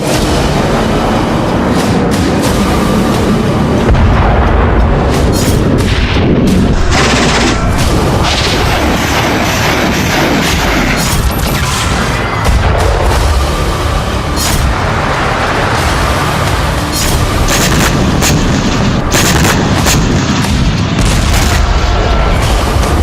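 Heavy wartime blasts of gunpowder explosions rumble through the full span, dense and loud, with repeated booming impacts and crackling bursts layered over a continuous low roar, no speech present.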